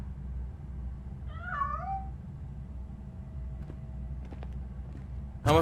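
One clear cat meow in the video game RoboCop: Rogue City, a rising and falling cry near the start, then quiet game ambience with faint clicks and a sharp noise at the very end.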